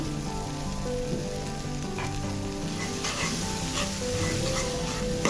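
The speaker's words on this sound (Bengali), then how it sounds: "খুব ভালোভাবে মিশিয়ে দিচ্ছি" Salted hilsa fish bharta, mixed with coriander leaves, sizzles steadily in a pan while being stirred, with a continuous frying hiss and occasional scraping strokes, close and fairly loud throughout.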